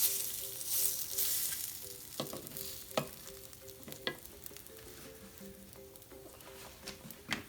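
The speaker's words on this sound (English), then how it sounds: "we're going to check this side, and we're going to flip it" French toast fries in oil in a pan with a steady close crackling sizzle, with occasional sharp taps and scrapes of a utensil over a faint background hum.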